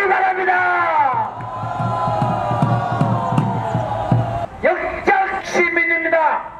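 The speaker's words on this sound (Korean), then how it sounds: "여러분 함성으로 보답해 주시기 바랍니다" At a street rally outside Ansan's Jungang Station, a large crowd roars and chants loudly in sustained waves, with a voice over amplified sound and a brief pause before the shouting surges again.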